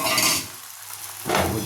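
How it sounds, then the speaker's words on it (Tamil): Beaten egg poured into a hot oiled pan for a bread omelette, a loud sizzle bursting out, dipping quiet for a moment, then flaring up again near the end. "ஆயில் போட்டு வச்சு கலக்கி வச்ச முட்டையை ஊற்றிடுங்க"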